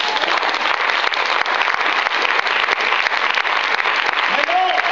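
A church congregation applauds loudly and steadily in a dense, continuous wave of clapping during a French-language sermon, with a voice rising briefly over the applause near the end.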